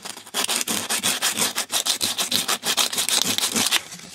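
Sandpaper rubbed briskly against a small piece of a 3x3 puzzle cube, giving quick, rhythmic back-and-forth scratchy strokes, close and fairly loud, with no talk.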